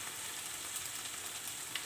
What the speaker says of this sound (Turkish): Sosumuzu bir karıştırıyoruz.